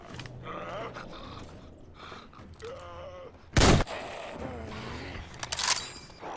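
A single sharp, loud gunshot cracks from a firearm in the video game Metro Exodus, followed by a second fainter shot, set against growling creature noises and ambient game sounds.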